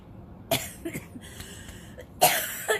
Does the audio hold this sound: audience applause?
no